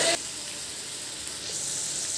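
A ginger, onion, garlic, tomato and green chilli paste hits a hot pan with a sharp burst of frying, then settles into a soft continuous hiss.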